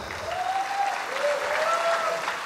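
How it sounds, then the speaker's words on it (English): At a Binibining Pilipinas USA coronation night pageant, the audience gives a round of applause, a full, steady burst of clapping that swells slightly in the middle, with faint tonal sounds drifting beneath. "Let's give them all a round of applause."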